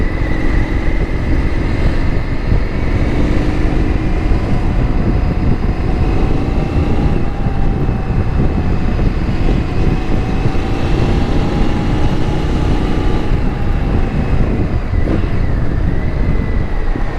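An Indian FTR RSD Super Hooligan motorcycle with an aftermarket Akrapovič-style exhaust, heard while riding as a loud, steady engine drone with gentle shifts in pitch and no voices.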